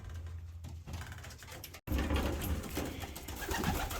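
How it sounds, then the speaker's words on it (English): Pigeons coo steadily inside a breeding loft as the morning sun warms them, a low, close murmur of overlapping calls that keeps going throughout. "all the pigeons are out here laying"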